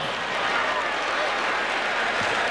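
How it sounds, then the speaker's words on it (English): Applause from an arena crowd at an NBA All-Star weekend event, a dense, continuous roar of clapping that stays steady and fairly loud throughout the short stretch. "Let's give a round of applause."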